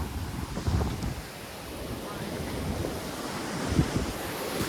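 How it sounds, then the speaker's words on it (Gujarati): Big ocean waves surge and break at Bet Dwarka, a continuous roar of surf with wind buffeting the microphone and a louder crash swelling near the end. "બહુ મોટું મોજું આવ્યું જો કેવડું મોટું આવે છે"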